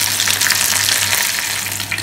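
Kolkata China Town style chicken deep-fries in hot oil until crisp and golden, a loud, close, continuous bubbling sizzle with a faint low hum behind it.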